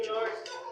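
A brief clatter of plates, pot lids and spoons knocking together, close by, at a church potluck, with a voice faintly underneath.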